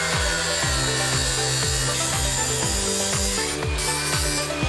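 A pipe flange face is ground smooth with a power tool before valves are fitted. The grinding comes in rhythmic passes, about two strokes a second, each with a rasping scrape. The sound is close and loud, with no talk.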